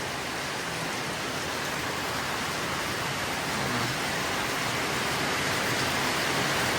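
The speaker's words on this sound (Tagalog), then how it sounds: "Lakas ang ulan." Heavy rain falls steadily at a house under construction, a loud, unbroken hiss of dense downpour that never eases, with no voices.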